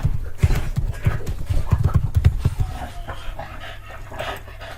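Dogs pant heavily and rapidly after playing, in a loud burst of breathy, rhythmic huffs up close that fades somewhat toward the end.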